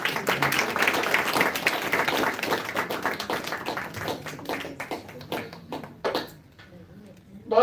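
An audience at a school annual day celebration applauds a stage performance. Dense clapping comes first, then thins to scattered claps and fades out.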